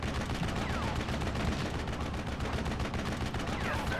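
Artillery and gunfire in the video game Steel Division Normandy 44 make a dense stretch of rumbling booms and crackling shots, continuous and fairly loud, with overlapping reports throughout.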